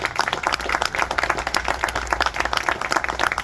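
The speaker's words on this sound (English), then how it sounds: "Let's have a round of applause for all of our volunteers." A hall crowd at a volunteer fire department's 9/11 memorial ceremony in Warrensburg, New York claps for the volunteer firefighters, with steady, dense applause throughout and a faint low hum beneath.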